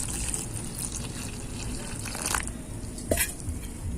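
Water trickles into a bowl of patishapta batter mixture with milk and sugar, a steady faint pour against a hissy background with a brief splash near the end.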